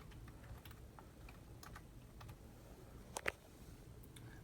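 Light typing on a computer keyboard, a quiet string of scattered key taps with a couple of sharper clicks near the end, faint and close in a quiet room with no talking.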